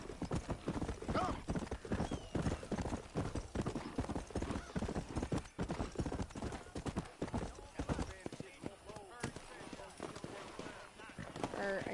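In the Western video game Red Dead Redemption, horse hooves clip-clop steadily over ground, loud and continuous, with characters talking over the hoofbeats throughout.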